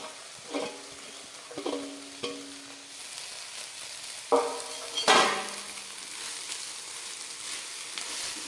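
Cooked egg noodles tossed with masala in a pan, a low sizzle beneath several ringing metal clinks and scrapes of a spoon against the pan, spaced irregularly and close by, no one talking.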